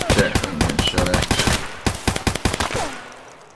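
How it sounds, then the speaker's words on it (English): Rapid gunfire in the Escape From Tarkov video game on the Customs map, a dense run of sharp loud shots in quick bursts that thin out and fade toward the end. "I'm getting shot at."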